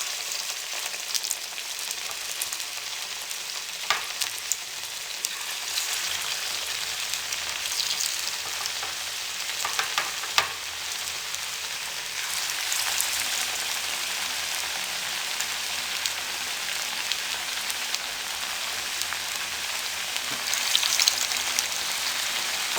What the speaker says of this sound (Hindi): अब इसमें हम ये टिक्की फ्राई करेंगे।